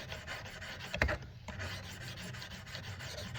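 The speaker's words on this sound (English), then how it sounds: "Just kind of filing it back and forth." A blade edge is sharpened on a 600 grit Work Sharp, filed lightly back and forth in a soft, close rasping rub with one sharper scrape near the start.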